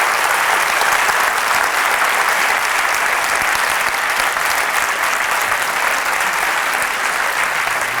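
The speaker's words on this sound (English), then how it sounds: "Massive round of applause to every single one of you." Sustained, dense applause from a university audience at Maastricht University fills the space evenly and loudly, with no break or voices.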